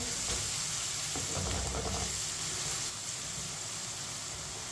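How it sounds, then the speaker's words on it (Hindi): Tomatoes frying in a pan while cooking masoor dal give off a steady, broadband sizzle that stays constant throughout, close and moderately loud, with no voices over it. "टमाटर को भी 2 मिनट के लिए पकने देते हैं"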